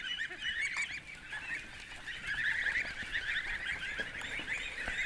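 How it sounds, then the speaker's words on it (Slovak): Cherry Valley broiler ducks, a fast-growing hybrid kept on a farm, quack and chatter continuously at close range in a steady, busy flock chorus with no talk over it. "Toto sú kačky brojlerové."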